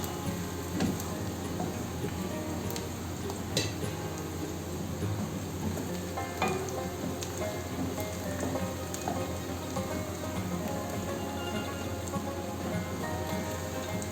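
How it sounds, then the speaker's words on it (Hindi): Onions sizzle and crackle steadily in a hot pan for chicken do pyaza, a dense close hiss with occasional sharper pops and faint stirring clicks, no talking over it. "ये मुझे 5 मिनट हो गए इसको फ्राई करते हुए और मैं इसको साथ साथ चलाती जा रही हूँ"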